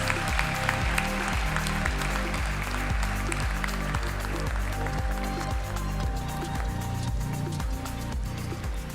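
Steady, fairly faint applause from a graduation ceremony audience for a gold medalist, with a rhythmic beat running underneath throughout and no speech.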